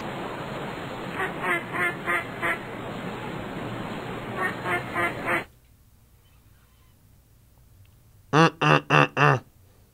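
Cartoon duck quacks from The Impossible Quiz video game, two bursts of four quick loud quacks, the first set over game music and chatter, then a final set of four standing alone after a quiet gap.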